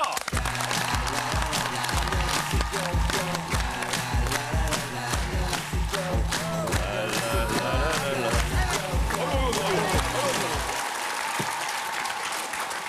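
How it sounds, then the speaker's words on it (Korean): Studio audience applause on a Korean KBS talk show greets a wife troubled by her husband, loud and steady over a music bed with a rhythmic beat, cutting off near the end. "남편 때문에 고민인 아내분을 박수로 맞이합니다."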